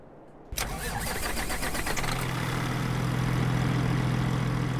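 A modded truck engine in Farming Simulator 22 cranks and roars to life, then settles into a loud, steady idle with a deep low rumble.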